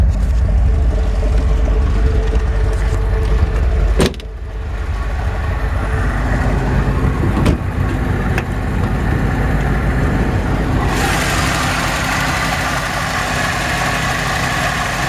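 A 1979 MGB Convertible engine idles steadily with a loud low rumble, broken by a couple of sharp clicks and a brief shift in tone partway through, then settling into an even, slightly brighter hum.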